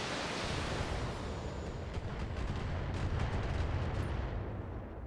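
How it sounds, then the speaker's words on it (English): Weapons fire from a Shadowhawk mech in the BattleTech video game, a dense roar of blasts and rumbling impacts that fills the whole stretch at steady loudness. "We'll fire on this Shadowhawk with our Shadowhawk and do as much damage as we can."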